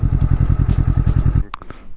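Motorcycle with the factory Performance package exhaust idles with a loud, close, steady throbbing pulse, then cuts off abruptly into a few brief clicks and crackles.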